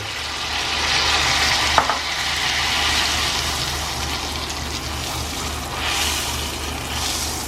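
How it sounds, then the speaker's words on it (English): Batter-coated papad fries in hot oil over a medium gas flame, a steady close sizzle and bubbling that runs throughout, with a brief clink near the start. "now we'll put the papad in the hot oil"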